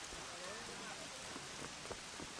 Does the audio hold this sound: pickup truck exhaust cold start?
no